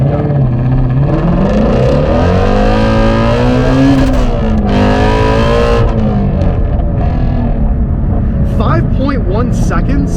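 A Shelby GT350 Mustang with a manual transmission launches hard from a standstill and accelerates, its loud engine note climbing through the revs, dropping at a gear shift, then climbing again, with a brief spell of tire squeal and excited voices inside the car.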